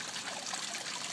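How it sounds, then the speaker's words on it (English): Water trickling in a lit garden water feature at night with a pool, a continuous close babble and dribble of falling water, steady and alone. "Here's the water feature at night."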